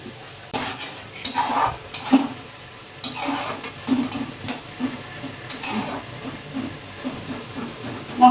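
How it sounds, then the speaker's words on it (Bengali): Spice paste frying and sizzling in a pan for a cauliflower curry, with a steady hiss broken by repeated scrapes and clinks of a spoon stirring against the pan. "এবার মশলাটাকে আমি কষতে দেব।"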